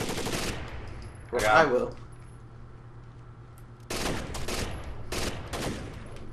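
Bursts of automatic gunfire in the video game Rainbow Six Vegas 2 open and close the stretch, with a quieter pause between them where a voice briefly speaks.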